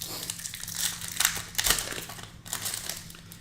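Paper baseball card packs are torn open by hand, giving loud crinkling and ripping bursts in quick, uneven succession, close up and with no talk.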